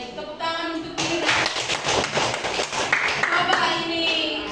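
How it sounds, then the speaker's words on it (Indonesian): Students in a high school classroom break into applause for a classmate, a burst of many clapping hands that carries on for several seconds at close range, with some light shuffling underneath. "Tepuk tangan untuk Mirna."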